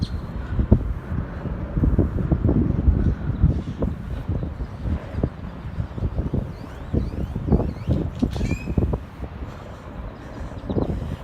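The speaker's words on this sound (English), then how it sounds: "Trying to block some of the wind." Strong wind buffets the microphone on a riverside walk in downtown Waco, a steady low roar with gusty swells throughout and no talking.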